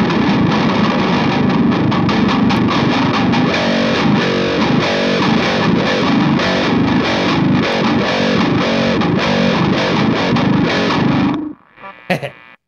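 Distorted electric guitar run through a Valeton GP-100 whammy pedal set an octave down plays loud, continuous riffs for about eleven seconds, then cuts off abruptly with a brief faint tail.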